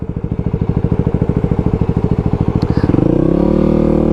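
A Yamaha WR250R dirt bike engine thumps at a steady, rapid idle pulse up close, then smooths into a louder, higher rev near the end; no one speaks.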